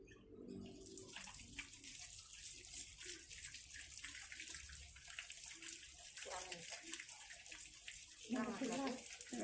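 Hands rinsed under running tap water during a handwashing demonstration, a steady broadband water stream lasting throughout, with a voice speaking over it.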